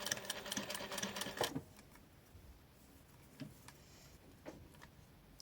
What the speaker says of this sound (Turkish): Baskı ayağımın altına veriyorum. Orada bir ileri geri işlem yapacağım.